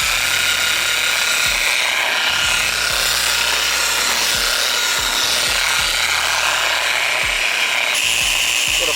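A car paint polisher works on a Ferrari, spreading polish at its low speed setting, with a steady whirring buzz and rubbing pad noise throughout and uneven low thumps.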